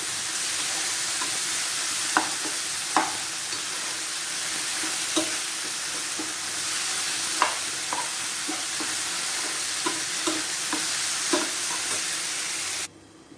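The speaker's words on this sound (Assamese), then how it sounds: "এতিয়া অলপমান ঢাকনটো তুলি অলপমান লৰাই দিম।" Sweet tomato chutney made with jaggery and tamarind water, sizzling in a pan while being stirred, a steady frying hiss broken by regular scraping and knocking strokes of the spoon, close by and without talking.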